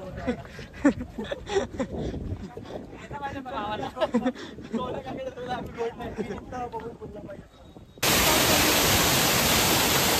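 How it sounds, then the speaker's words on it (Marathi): Voices chatter and move about for several seconds, then a sudden loud, steady broadband hiss of heavy rain takes over. "पाऊस आला."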